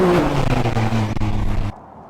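A Can-Am Maverick with the catalytic converter removed and an open 2.5-inch exhaust revs loudly and raspily up close, falling back and stopping abruptly near the end.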